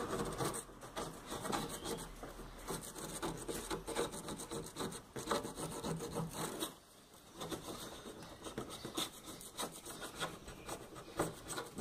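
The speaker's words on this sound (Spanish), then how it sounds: "Y vamos a sacarle el óxido." Steady, fairly loud rasping scrape of rust being stripped off a refrigerator door, continuous abrasive strokes with a brief lull midway, no voices.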